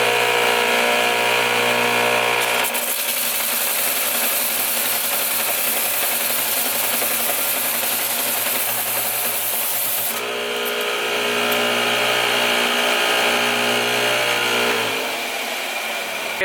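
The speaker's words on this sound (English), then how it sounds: "set it up on the sander and go ahead and plane the surface" An electric sander grinds the flat face of a cast iron B-Series turbo manifold, a loud steady motor whine with a rough scraping layer. It runs at first, drops to a duller grind in the middle, then whines again.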